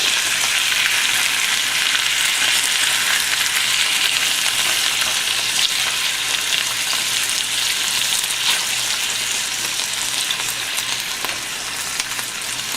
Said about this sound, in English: we'll move everything around a little bit so it can cook on all the different sides